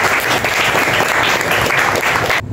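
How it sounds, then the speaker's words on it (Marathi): A studio audience at a comedy chat show gives loud, dense applause that holds steady and then stops abruptly. "त्यासाठी एकदा जोरदार टाळ्या होऊन जातो"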